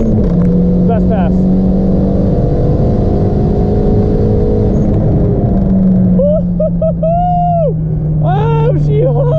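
A turbocharged Honda Civic drag car at a drag strip drones with a steady engine tone through its pass, and excited voices shout over the engine toward the end.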